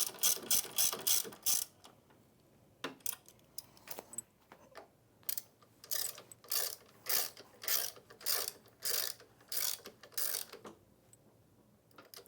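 A hand ratchet tightens the main frame bolts on an ATLAS floor buffer, sounding as close, bright clicking bursts in a steady back-and-forth rhythm, separated by short pauses.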